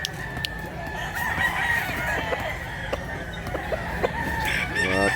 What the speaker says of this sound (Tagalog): Gwapong manok.